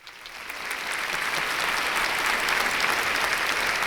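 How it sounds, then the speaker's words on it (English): An audience applauds steadily, dense clapping swelling in from a quieter start and holding at a full, even level to the end, with no voices over it. "Another pause for applause"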